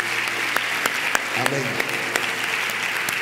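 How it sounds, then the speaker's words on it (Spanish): Applause from a church congregation welcoming a visiting group of about eight people, a steady wash of clapping throughout with a voice speaking briefly over it. "a ellos le podemos dar un aplauso de bienvenida"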